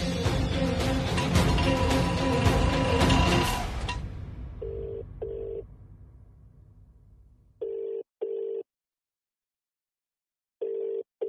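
An unanswered phone call gives a ringback tone: after a loud burst of background sound fades out, paired electronic ring pulses repeat three times with silent gaps between them, clear and steady.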